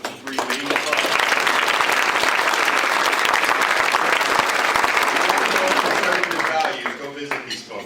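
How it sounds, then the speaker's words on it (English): A dinner crowd gives sustained, full applause for sponsor clubs that swells quickly, holds steady for several seconds, then tapers off, with voices mixed in. "So if I could get a round of applause for the 3 main clubs"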